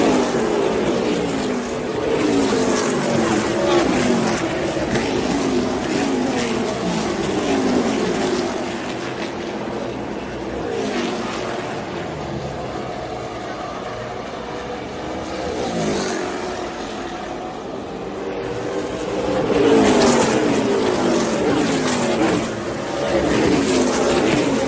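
Race cars at a Kimmel Racing event, engines roaring past in repeated waves that swell and fade, loud and continuous with a dense mechanical drone between passes.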